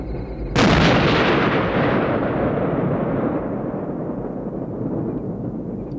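A single massive boom from an M60A3 tank's main gun during gunnery practice, followed by a long rolling rumble that slowly fades.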